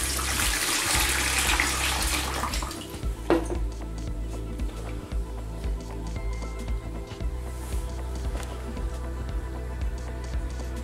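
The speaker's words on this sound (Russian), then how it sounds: "сливаем воду через сачок в ведро" Aquarium water pours through a fish net into a bucket, a loud splashing stream for the first few seconds that dwindles to faint trickles and scattered drips.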